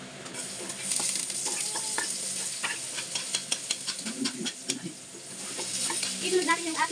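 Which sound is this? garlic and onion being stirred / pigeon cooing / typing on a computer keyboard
garlic and onion being stirred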